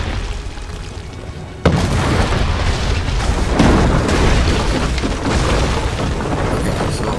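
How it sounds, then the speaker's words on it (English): Cannon fire booms in the Assassin's Creed 3 video game during a naval battle, a sudden loud blast followed by sustained rumbling explosions and debris noise with no break. "Okay, so I gotta try to not get hit by the cannons."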